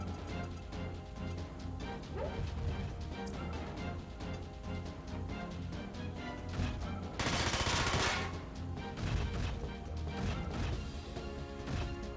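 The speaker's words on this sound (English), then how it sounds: "Point blank rifle shot." A point-blank rifle shot in the video game Front Mission 4, a sharp, loud crashing blast standing out for about a second from a dense bed of game music and effects.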